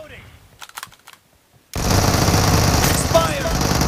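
Rapid automatic gunfire rings out in the mobile game PUBG Mobile on the Arena Evo Library gun game map, a dense continuous burst after a quieter stretch with a few faint clicks.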